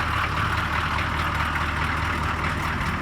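A CUCV M1008 military pickup truck's engine idles steadily on its own, a continuous low rumbling drone close by, with no talk over it.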